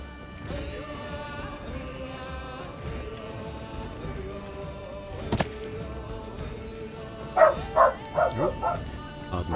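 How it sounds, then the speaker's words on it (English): A dog lets out a quick run of four or five loud barks near the end, after a stretch of quiet outdoor ambience in a period wilderness setting, with people talking around it. "pardon my dog"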